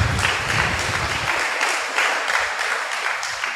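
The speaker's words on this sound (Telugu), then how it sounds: "ఆశ కలిగిన తల్లిదండ్రులు చప్పట్లు కొట్టుకోండి." Hands clapping in unison across a church congregation at a pastor's gathering, a brisk rhythmic burst of applause that runs steadily for a few seconds and then thins into scattered claps.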